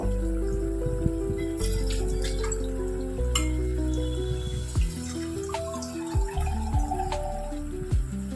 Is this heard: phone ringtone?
no